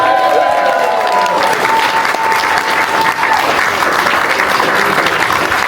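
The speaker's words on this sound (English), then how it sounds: "Give him a big cheer for that." Wedding guests applaud and cheer for a dancing champion at a reception in the Bodleian, Oxford, a steady dense wash of clapping and whoops lasting throughout, loud and close.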